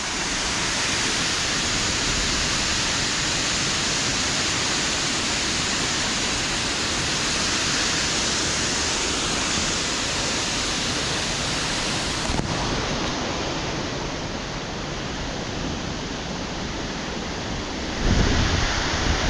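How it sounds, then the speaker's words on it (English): A powerful waterfall rushes in a loud, unbroken roar close by, with a brief shift in tone and a soft thump near the end, no voices. "So you can hear the rush of the water,"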